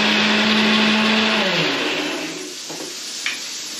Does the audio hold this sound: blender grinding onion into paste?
yes